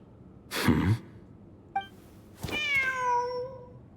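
A cat meows in Genshin Impact, a short clear cry after a brief burst of noise and a small chime, with no talk over it.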